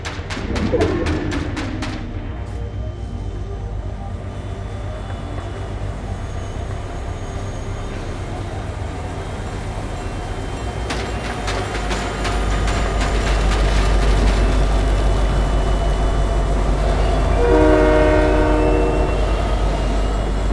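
In Fortnite, a game train rolls with a low continuous rumble that grows heavier partway through, while its horn blasts loudly near the start and sounds again briefly toward the end, with no talking.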